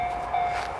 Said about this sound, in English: here we go. This is a Echizen Express train.